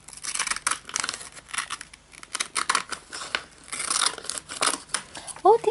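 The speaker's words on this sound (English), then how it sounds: "Oh, these are zigzag scissors." Zigzag scissors cut through paper in a series of close, crisp snips and crunches with short pauses between strokes, ending with a brief higher tone.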